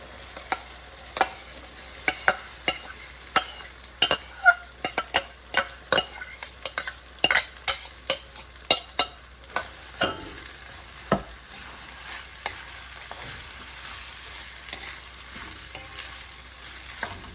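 Soaked sabudana stirred in a frying pan with lemon, a soft continuous sizzle under repeated sharp scrapes and taps of a spoon against the pan, irregular at first then thinning out, close and alone.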